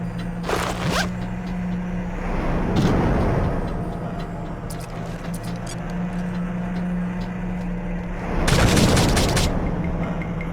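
Grenade blasts in James Bond 007: Agent Under Fire, two heavy booming explosions a few seconds apart over a steady low engine-like drone, each followed by a rumbling decay.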